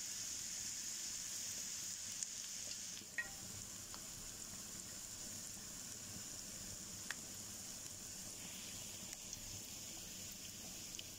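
Fava beans sautéing in a hot pan with oil while a breakfast is cooked, a steady close sizzle and fry running throughout with a few faint clinks and stirring sounds, no talking.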